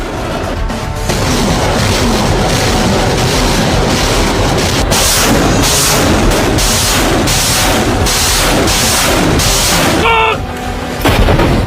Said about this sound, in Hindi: इस दौरान रॉकेट्स और मिसाइलें दागी गई